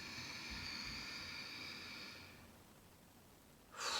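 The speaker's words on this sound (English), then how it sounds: "So I start with the exhale, and then we go for the inhale" A long, slow breath is pushed out in a steady airy hiss during a calming breathing exercise. A pause follows, then a sharp inhale starts at the end, close to the mic.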